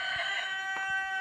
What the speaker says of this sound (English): Rooster, really.